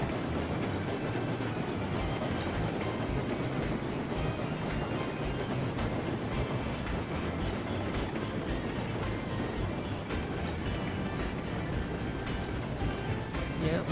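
The Mastodon steam locomotive running in the Railroads Online video game, a dense continuous rumble with faint rhythmic clatter, steady and fairly loud with no talk over it.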